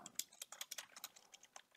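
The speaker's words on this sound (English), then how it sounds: "So let's say I'm gonna type" Quick, faint clicks on a computer keyboard as a short line of code is typed, a light irregular patter of keystrokes close up with no voices.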